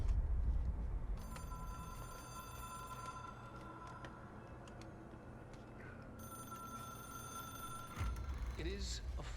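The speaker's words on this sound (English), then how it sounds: "It is a phone." Phone ringing in the video game Control, an old-style bell tone repeating in two long bursts over a steady low ambient hum, fairly close and clear with no talk.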